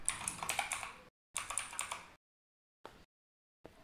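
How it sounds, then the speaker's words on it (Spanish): Bursts of typing on a computer keyboard while entering text in a Windows settings box, rapid close key clicks in two runs of about a second each, then short isolated taps separated by silence. "Escribo explore."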